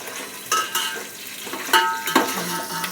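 Green chillies tossed into a home-cooked curry pan, giving a soft steady sizzle with several sharp clinks and scrapes of a spoon stirring against the pan, close and alone.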